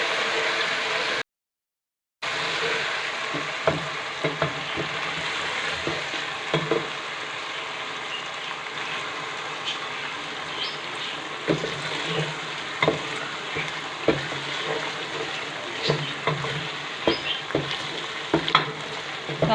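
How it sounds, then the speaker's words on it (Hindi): Ginger garlic paste sizzles and fries in a pan while being stirred, a steady close hiss broken by scraping spoon clicks, with a short silent gap near the start. "अब इसके अंदर अदरक लहसुन का पेस्ट डालेंगे"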